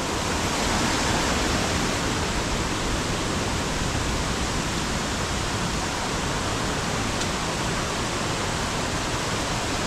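Stream water flows in a village setting, a dense, unbroken rushing wash that stays loud and even from start to finish, close by with no voices.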